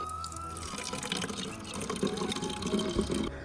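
Water runs steadily from an outdoor tap beside an old house in a hillside plum orchard, filling a container for drinking water, a continuous splashing rush heard close up with no talking.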